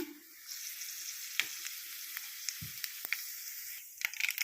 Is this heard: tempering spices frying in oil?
yes